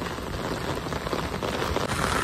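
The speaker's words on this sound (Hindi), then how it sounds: "बारिश में भीग रहे हो आप?" Heavy rain pours down in a steady, dense hiss in a residential lane in Vikas Nagar, close and continuous, with no voices.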